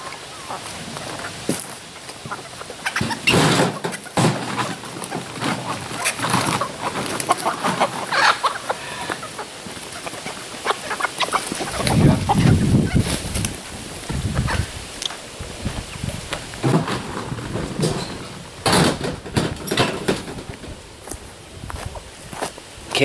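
Chickens cluck and scuffle while being fed outdoors, with footsteps and scattered bursts of clucking and squawks over about twenty seconds, and a man calls to the birds now and then.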